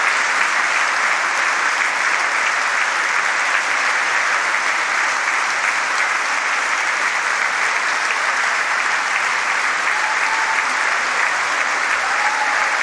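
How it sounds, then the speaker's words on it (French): A concert audience claps loudly and continuously in a dense, even wash of applause after an orchestral performance, with occasional faint shouts in the background. "pour une salve d'applaudissements."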